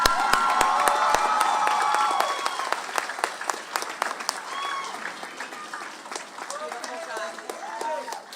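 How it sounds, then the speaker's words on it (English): An audience at a high school graduation ceremony breaks into sustained applause, loud and dense at first, then thinning into scattered claps with a few voices and cheers mixed in. "let's all give a warm round of applause to one of my best friends"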